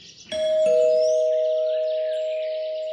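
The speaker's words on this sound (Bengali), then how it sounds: "বাড়ির কলিং বেলটা বেজে ওঠার সাথে সাথে জয়শ্রী দরজা খুলল" A house doorbell rings, a single loud two-tone electronic chime that sustains and slowly fades, heard alone.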